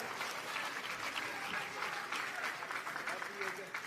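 Crowd applauding at a pro pickleball match between Brooklyn and Chicago Slice, a sustained burst of clapping and cheering with a commentator talking over it.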